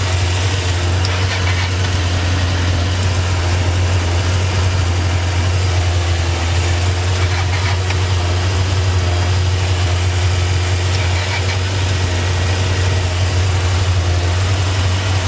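A Honda 600 Transalp motorcycle idles steadily right after being started, its engine giving a loud, constant low rumble with an even vibration throughout, recorded close up.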